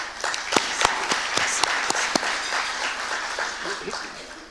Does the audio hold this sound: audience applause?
yes